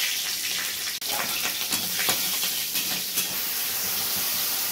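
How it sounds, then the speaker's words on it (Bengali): Nigella seeds and green chillies sizzle in hot oil in a wok, a steady close hiss and spatter with small pops, while mustard hilsa is being cooked. "কড়াইয়ে গরম তেলে প্রথমে কালো জিরে আর কাঁচা লঙ্কা দেয়া হলো"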